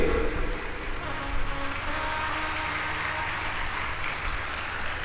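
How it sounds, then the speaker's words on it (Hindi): Applause from a devotional gathering's audience, clapping in honour of donors to a cow shelter; a steady, dense wash of many hands sustained at even loudness for about five seconds, with no talk over it. "एक बार उन लोगों के लिए भी ताली बजाओ"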